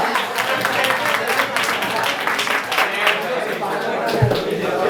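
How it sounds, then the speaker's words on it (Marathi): An audience at a road safety awareness campaign held at a college claps, producing a dense, steady patter of applause mixed with voices. "जोरदार टाळ्या होता, जोरदार टाळ्या"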